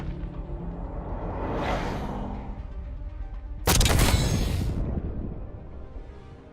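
A spawn tube launcher fires in Black Ops 6, a sharp loud burst with a whooshing rush that fades, preceded by a rising swoosh and set over constant game ambience.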